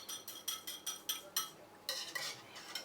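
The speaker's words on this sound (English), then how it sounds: "I've got an egg whisked, and I'm adding that to the hot oil." Whisked egg poured into hot oil in a wok, giving a soft sizzle broken by a series of quick clinks and scrapes of a utensil against the pan, close up and with no talking.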